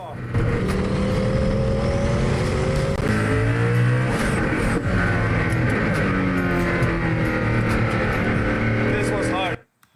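A loud Hennessey car engine revs and roars steadily, its pitch rising and falling across several seconds before cutting off abruptly at the end.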